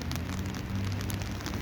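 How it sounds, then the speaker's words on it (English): Steady outdoor rain falls and patters on surfaces in a dense, even hiss, moderately close and unbroken, with no voices. "today it's raining"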